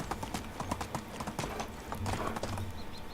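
Donkey hooves clip-clop steadily at a quick trot in the video game Medieval Dynasty, a dense run of close hoof knocks with no talk over them.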